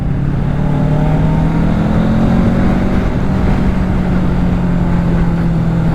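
A 2024 Kawasaki Ninja 650 motorcycle's engine runs loud and close, a steady throaty drone with a slowly shifting pitch as it pulls along, with no talking.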